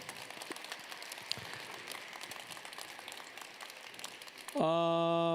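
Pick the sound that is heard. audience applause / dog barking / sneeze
audience applause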